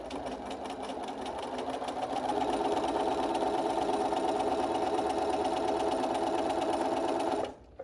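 A sewing machine stitching along the bottom seam of a fitted fabric face mask, running steadily at close range for several seconds, then stopping abruptly near the end.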